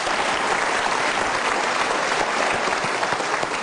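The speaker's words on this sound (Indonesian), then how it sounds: "Kita berikan tepuk tangan untuk Marcel Brown" A studio audience at a motivational talk show breaks into sustained, dense applause, a loud, even wash of many hands clapping with no voices over it.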